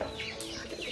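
Chickens cluck on a farm, with steady low clucking and a brief higher squawk partway through, heard alone at moderate distance.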